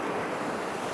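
Waterfalls in the Langdale Valley of the Lake District, a steady broadband roar of rushing water close by, continuous and fairly loud, with some wind buffeting the microphone.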